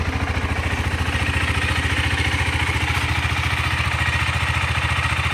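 A 2022 KTM 390 Adventure motorcycle with 5,000 km on it idles close by, its single-cylinder engine thumping in a fast, even rhythm with a light mechanical clatter.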